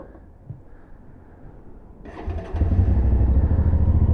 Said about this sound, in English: a good clean recording of the engine sound on this bike